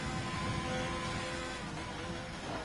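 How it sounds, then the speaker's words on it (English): An old-generation PlayStation console's cooling fan runs as a steady, faint whirring hiss with a thin, constant tonal whine, unchanging from start to finish. "There's a jet in it. Shut up, I have an old gen PlayStation."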